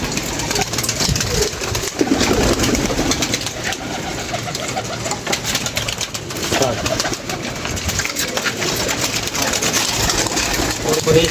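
Pigeons coo among a flock kept by a fancier, steady soft calls under constant background noise and an idling engine-like hum throughout.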